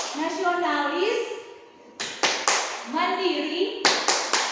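Children's voices chant a rhythmic school clap cheer, each phrase punctuated by sharp, loud bursts of synchronized hand clapping in quick clusters, with the sung chant and claps alternating.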